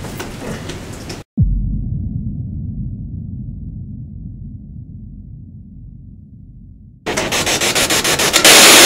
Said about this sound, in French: nous allons faire une séance Spirit Box